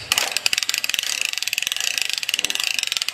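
Hand crank starter on a 1960 lawn mower winding its spring, a fast, even ratcheting click train close up and loud, continuous with no talk.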